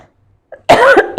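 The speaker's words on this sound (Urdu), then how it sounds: "کھانسی ہے یار۔" A single loud, close cough bursts out after a near-silent pause, followed by a shorter second cough or throat clearing at the end.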